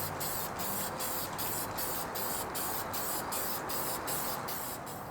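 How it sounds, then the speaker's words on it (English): A steady hiss from a spray can of lacquer, pulsing in quick regular bursts as it is shaken or swept, fairly faint and with no voices. "so we're going to spray on some lacquer"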